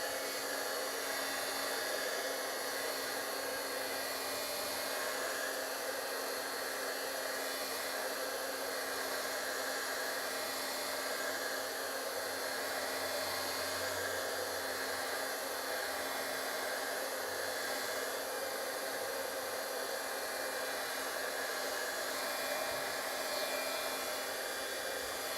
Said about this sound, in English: I will be using my heat tool because I am not patient enough to let this